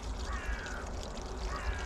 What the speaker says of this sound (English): we're just going to give them a little bit of water